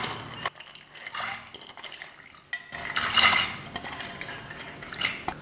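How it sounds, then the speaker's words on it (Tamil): Soaked cowpeas (karamani) are tipped into a pressure cooker holding water, giving scattered clinks of metal and spoon against the pot and soft splashes, fairly quiet and close, with no talking. "இப்போ ஊற வச்சுருக்கிற காராமணியை இதில் சேர்த்துடுறேன்."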